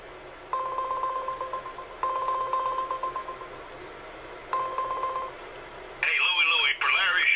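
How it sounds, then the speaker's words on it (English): A phone call is placed on speakerphone through the Hangouts Dialer app on an Android phone. Three evenly spaced ringing-tone bursts play through the speaker, then a voice answers over the line. "now let's make a phone call."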